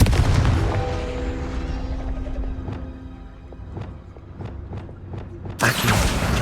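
A fire blast from the Confringo spell in the video game Hogwarts Legacy hits with a heavy boom and a ringing tail, followed by several sharp cracks and a sudden bright burst near the end.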